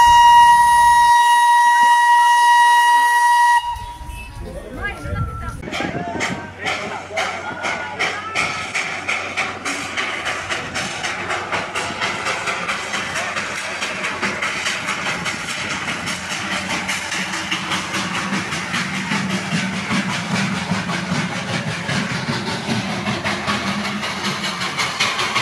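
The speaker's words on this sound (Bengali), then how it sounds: "এসে গেছে দার্জিলিংয়ের টয় ট্রেনের" The Darjeeling toy train sounds a long steady whistle blast, then runs on with a continuous rumble and clatter of carriages while voices talk over the noise.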